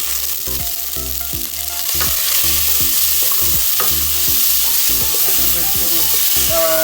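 Vegetables stirring in a deep pot of prawn linguine, a loud continuous sizzle with regular scraping strokes of the spoon about twice a second throughout.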